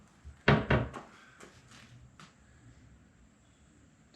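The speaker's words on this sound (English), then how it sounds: "there's slamming doors around here" Doors slam nearby inside a Ford Transit van build, with two sharp thuds close together and then a few lighter knocks and clunks. No voices are heard.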